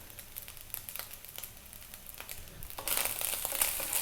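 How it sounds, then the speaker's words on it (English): Garlic rice frying in a pan for a Chinese fish dish, a steady close crackling sizzle that swells louder and brighter over the last second, with no talk. "That is the rice frying."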